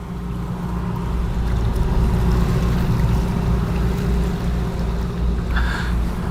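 A boat motors along the Tweed River with a steady, deep engine hum and water rushing against the hull, continuous and close, with no talking.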